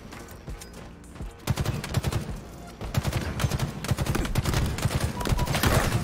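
Rapid bursts of battle rifle fire in Halo Infinite ranked Slayer, starting sparse and turning into sustained, close, loud volleys with other gunfire mixed in.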